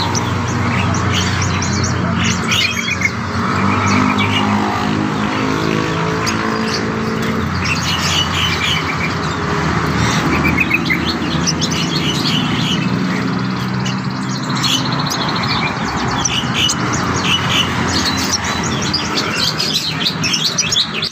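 Many caged birds chirp and tweet at a bird market, dense overlapping calls and squawks near and far, with a steady crowd murmur underneath throughout.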